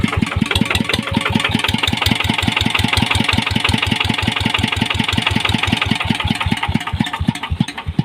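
A 120cc engine in for an upgrade runs at a steady idle, with a loud, rapid, evenly spaced ticking clatter from loose valves over the exhaust drone, heard up close without talk.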